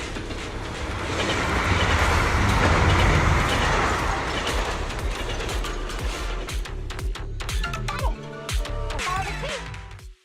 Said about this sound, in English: The train will soon pass through the area.